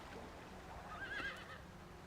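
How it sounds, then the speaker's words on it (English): A horse whinnies in a video game, a brief neigh over a steady ambient background with faint hoof clatter. "Oh, these horses look fresher."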